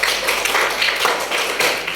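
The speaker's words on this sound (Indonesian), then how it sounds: "terima kasih dulu tepuk tangan untuk Rizky" Applause from a classroom for a student named Rizky during a teaching session, a steady patter of clapping hands filling the whole moment without talk.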